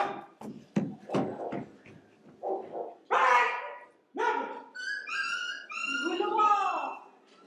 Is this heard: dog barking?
yes